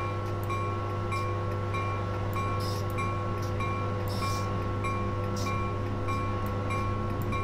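An Amtrak AEM-7 electric locomotive in Train Simulator 2019, running from Philadelphia to Trenton, hums steadily with constant electric whine and low drone, with periodic rhythmic clicks of wheels over rail joints.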